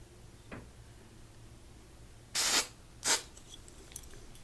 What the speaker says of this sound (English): I'm gonna do a little bit of hairspray again because we're putting the headband back in.